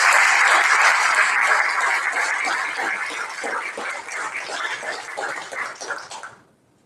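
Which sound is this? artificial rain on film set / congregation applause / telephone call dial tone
congregation applause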